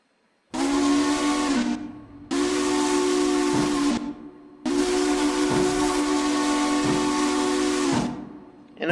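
A steam locomotive whistle in the Railroader game blows in three long, loud blasts separated by short gaps, steady, tonal and hissing, with the last blast running longest.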